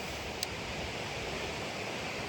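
Steady broadband roar of Skarðsfoss waterfall in the Skarðsdalur valley of northern Iceland, a continuous rushing wash of falling water with no pauses, a faint click near the start.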